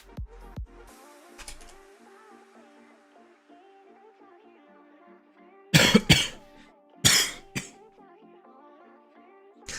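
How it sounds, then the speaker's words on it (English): A sick person coughs in several harsh bursts, two clusters of loud, raspy coughs standing out over quiet background music, with a brief thump near the start. "I'm still sick, so sorry for all the coughing."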